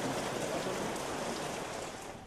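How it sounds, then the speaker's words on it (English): Heavy, incessant rain pours steadily over flooded streets in Coorg, a dense continuous hiss of falling water that holds loud throughout and eases slightly at the end, with no voices. "The incessant rains have flooded the streets in Coorg."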